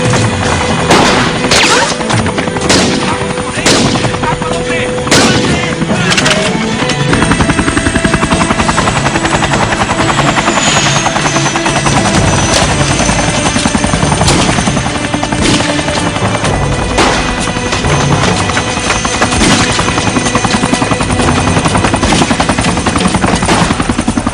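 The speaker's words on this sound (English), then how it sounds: "There's the chopper." A helicopter roars loud and close for the whole stretch, its steady rotor thrum joined by bursts of gunfire and crashing impacts, with no talk.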